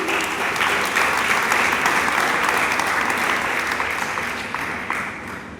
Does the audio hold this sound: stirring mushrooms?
no